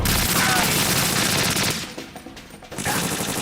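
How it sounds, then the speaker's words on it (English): Sustained automatic AK rifle fire in a video game, loud and dense for nearly two seconds, a short lull with scattered rattles, then another burst of shots at the end. "how about you dodge this AK"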